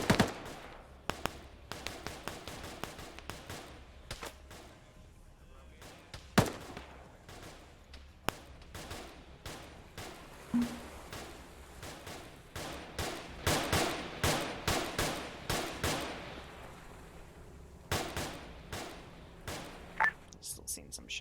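Gunfire in an Arma 3 combat mission, insurgents against Swedish forces: scattered single shots and rapid volleys crack at varying distances, with grenades mixed in and a dense bursting stretch in the middle, under occasional talk.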